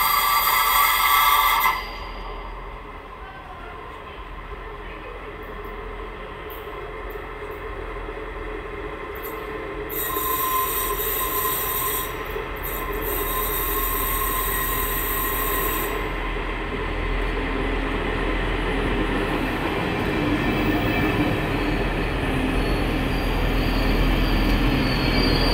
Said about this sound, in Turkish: Evet, şu an tren geliyor.